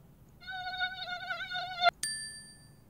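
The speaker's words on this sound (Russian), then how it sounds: "Покажи комарика. Он летает." A recorded mosquito buzz plays as a thin, high, wavering whine for about a second and a half, faint overall, ending abruptly with a short click and a bright ringing chime.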